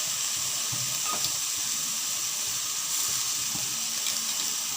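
Ginger-cumin paste sizzles hard in hot oil in a pan, a steady bright hiss with a few faint stirring knocks, close and with no voices.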